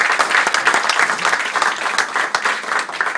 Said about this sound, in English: This guy needs a round of applause, he works so hard.